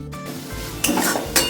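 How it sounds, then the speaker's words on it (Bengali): Spice paste with cumin, coriander, turmeric, green chilli, sugar and a little hot water being stir-fried in a pan for chana dal, close spatula scraping and metallic clinks against the pan over a faint sizzle, two sharper knocks near the end. "মশলা আবারও ভালো করে কষে নিতে হবে"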